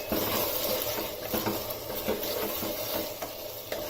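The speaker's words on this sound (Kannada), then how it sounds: "ಇವಾಗ ನಾನು ಶುಂಠಿ ಬೆಳ್ಳುಳ್ಳಿ ಇದನ್ನ ಪೇಸ್ಟ್ನ ಹಾಕ್ತಿದ್ದೀನಿ" Ginger garlic paste frying in a pan for chicken biryani, with steady sizzling and a spoon stirring and scraping against the pan in quick irregular strokes, close and moderately loud.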